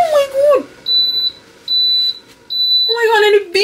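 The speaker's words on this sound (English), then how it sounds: "Oh my god, and it beeps when it's done." A kitchen appliance signals it is done with three evenly spaced high electronic beeps, loud and close, while a voice speaks just before and after.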